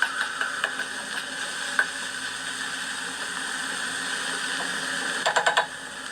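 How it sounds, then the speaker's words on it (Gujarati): Cabbage vegetable sambharo being stirred with a spoon in a pan with little oil, giving a steady low sizzle with scattered soft scraping clicks and a brief cluster of louder spoon taps near the end. "અને આ રીતે ચમચા વડે ચલાવતા રહેવાનું છે, જેથી તે બધી બાજુથી એક સરખો ક્રિસ્પી કૂક થાય."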